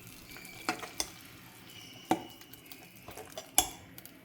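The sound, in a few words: mixing pongal in a pot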